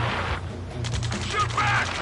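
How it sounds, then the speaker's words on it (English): Gunfire in Ace Combat 7, a rapid crackling burst of shots close by mixed with shouting voices and a loud, dense battle din throughout. "Taking fire! We're pinned down!"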